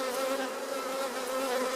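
Bees at an open hive with exposed brood and capped stores make a dense, continuous buzzing drone, close and steady throughout.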